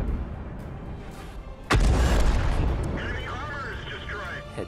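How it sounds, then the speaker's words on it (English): A tank gun fires in a video game: one sudden loud boom with a sharp attack, followed by a long rumbling decay and some faint in-game sound effects afterward. "So we'll just pop a shot in there and see if we get him."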